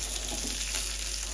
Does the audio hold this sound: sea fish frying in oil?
yes